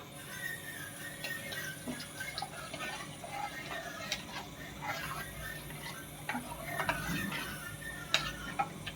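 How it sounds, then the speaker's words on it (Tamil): Soft scraping and light clinks of a spoon stirring sauce in a pot, steady and close, with faint kitchen background noise throughout. "இதை அப்படியே கொஞ்சமாக ஊற்றி கலக்கிறேன்."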